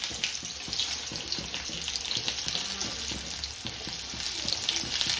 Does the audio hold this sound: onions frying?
yes